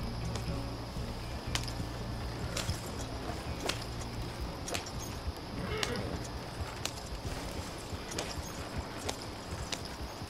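Horse hooves in Red Dead Redemption 2, a steady clip-clop of hoofbeats at an even walking rhythm, fairly quiet and close, running alone for about ten seconds.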